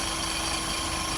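A wood lathe spins an off-balance camphor wood bowl blank at high speed, giving a steady, close motor hum with a low, throbbing vibration and a constant mechanical drone, with no talking.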